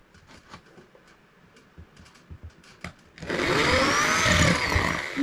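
A power drill bores holes for wall plugs during home DIY, bursting in loudly after some light handling clatter and then whirring steadily and close, without talk.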